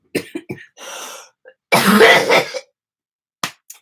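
A person coughs several times: a few short hacks, then one long, harsh, rasping cough, followed by a brief final cough after a pause.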